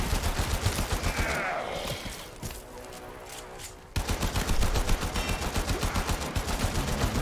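An automatic gun fires in Warframe, a fast, even rattle of shots in a long burst that drops to a quieter lull, then resumes just as rapidly and loudly.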